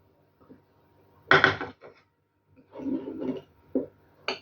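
Dry flour, cocoa and baking powder stirred together in a bowl for a Golden Key cake, with a few short scraping and clinking bursts of a utensil against the bowl, fairly close and separated by quiet pauses.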